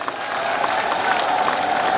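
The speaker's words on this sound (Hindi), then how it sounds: "मैं सब लोगों से कहूंगा जोरदार ताली बजाकर आप" A political rally crowd claps in loud, continuous applause to welcome a leader, with a faint steady tone running beneath the claps.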